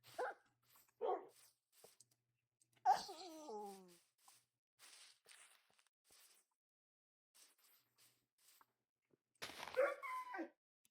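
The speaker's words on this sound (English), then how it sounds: "Okay, you're the whiny dog." A whiny dog in Minecraft whimpering and yelping in a few short, separate bursts with quiet gaps between, one longer wavering whine in the middle, fairly faint.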